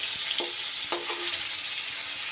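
Sliced pointed gourd fries in a little oil in a pan, giving a continuous loud sizzle with a few brief clinks of a utensil stirring, and no talking.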